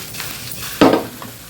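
A spoon scrapes once through an Andhra-style murrel fish curry simmering in a pan, a brief, close stir over a soft steady sizzle, with no talking.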